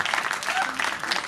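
Dense, even applause from a crowd at a Hindi poetry recital (kavi sammelan) fills a brief moment, with voices mixed into the clapping.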